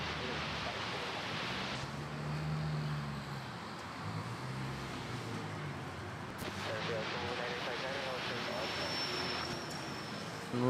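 An Eva Air airliner rolls down the runway at Manila Airport for takeoff, its engines a broad steady roar heard from a distance, with radio talk over the top.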